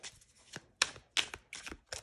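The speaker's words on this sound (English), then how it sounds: "let's see how it shuffles" A tarot deck of US Games cardstock being shuffled: several quick riffling bursts of papery flutter separated by short pauses, close and fairly quiet, with no speech.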